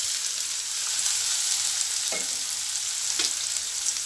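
Finely chopped onions frying in oil with tempering spices for an egg gravy, a constant near sizzle with two soft spatula scrapes partway through, no one speaking.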